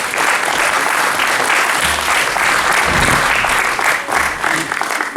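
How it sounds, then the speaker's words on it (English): At a Game of Thrones Q&A panel at a sci-fi convention in Wales, an audience claps to welcome a guest on stage: dense, loud, sustained applause that continues throughout. "Round of applause, Ian."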